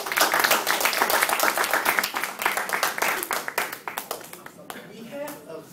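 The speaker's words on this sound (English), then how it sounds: "Let's give all of us a round of applause." Audience applause at a Toastmasters club meeting, a dense, steady burst of many hands clapping in a room that gradually thins into scattered claps and fades toward the end.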